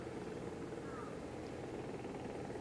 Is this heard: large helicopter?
yes